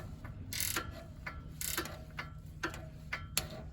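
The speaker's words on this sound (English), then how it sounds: "this is the maiden voyage of my Icon flex head reversible ratcheting wrenches. And this is a 19 mil. So I'm just taking off that castle nut." Icon flex-head reversible ratcheting wrench backing off a 19 mm castle nut on a Honda Odyssey's suspension, a series of sharp, close metallic ratchet clicks coming in quick bursts with short pauses, no talking.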